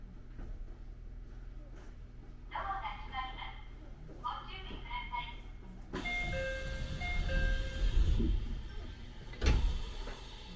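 Inside a train in Japan between Kyoto and Nagoya, a low rumbling hum carries on throughout while a short chime melody plays, then the running noise swells louder.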